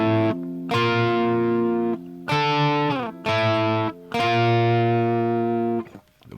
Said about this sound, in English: think of them as power chords.